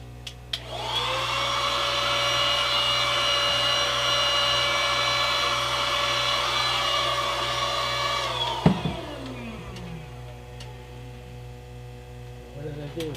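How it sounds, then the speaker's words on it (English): Small USB-powered cordless drill used for scenery work on a model backdrop: a close, steady motor whine runs for several seconds, then cuts off with a click and spins down to a fading hum. "this is a nice little drill."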